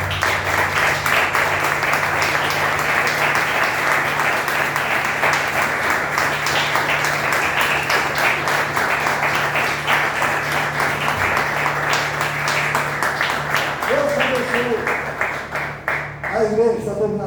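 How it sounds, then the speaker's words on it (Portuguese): A church congregation gives sustained, dense applause that holds steady for many seconds, with a low hum underneath, before fading into a short sung or spoken voice near the end. "Então vamos dar uma salva de palmas para você."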